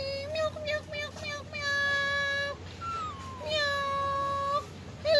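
A pet cat meows repeatedly in a house, a string of clear, close, drawn-out cries with rising and falling pitch, while a person nearby talks to it.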